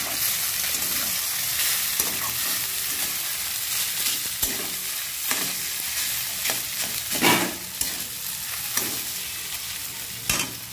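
Chowmein noodles tossed into a pan and frying over a low gas flame, a steady sizzle with repeated stirring scrapes and occasional sharp clatters.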